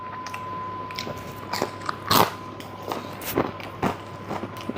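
Crisp, crackly crunches come from bites into thin tavern-style pizza, several sharp bursts spread over a few seconds, close and fairly loud with no talking.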